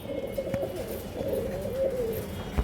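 A pair of cream bar pigeons coo nearby, soft warbling calls rising and falling in a few drawn-out phrases with faint background rustle.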